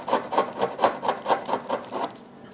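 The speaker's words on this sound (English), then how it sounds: "I scrape off the propolis here" Propolis scraped off wooden beehive frames with a hive tool over newspaper, about nine rhythmic rasping strokes, close and moderately loud, with no talk.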